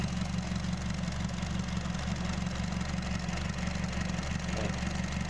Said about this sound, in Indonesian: ini untuk mesin Honda Jazz-nya sudah hidup ya. Untuk mesinnya sudah hidup, ini kita biarkan idle dulu.